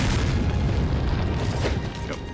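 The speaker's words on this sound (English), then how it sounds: "He's standing out there tossing grenades." A grenade explosion in Resident Evil 4 gives a heavy, sustained low boom with rumbling debris, loud and close, fading only slightly over a couple of seconds.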